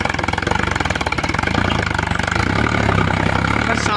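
A Sonalika 745 tractor engine idles with a steady, loud diesel chug and clatter, close by, its rhythm holding even throughout.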